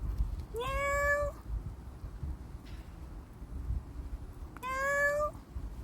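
Outdoors, a cat out on a stroll gives two clear, drawn-out meows a few seconds apart, close and distinct over a rough wind-like background hiss.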